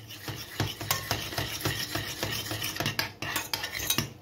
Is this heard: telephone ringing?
no